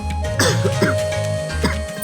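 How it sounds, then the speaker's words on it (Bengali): A person coughs and clears their throat indoors during a Bangla drama scene. Several short, harsh bursts come close and loud over a steady low hum, with no talk. "আরে কাশির সমস্যা হইতেছে নাকি?"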